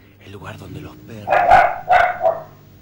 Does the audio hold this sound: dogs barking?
yes